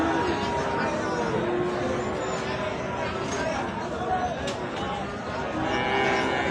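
Sahiwal bulls at a busy rural cattle market in Amabari, lowing amid steady crowd hubbub and nearby chatter.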